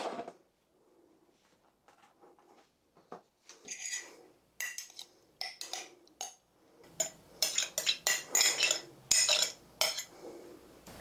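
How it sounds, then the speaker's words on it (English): A pan being shifted aside in a home kitchen while making frozen pizzas: a quiet stretch, then scattered metallic clinks, clatters and scrapes that grow busier and louder toward the end. "Let me move this pan out of my way."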